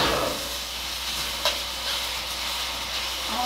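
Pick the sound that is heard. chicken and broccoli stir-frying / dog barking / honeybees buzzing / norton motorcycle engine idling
chicken and broccoli stir-frying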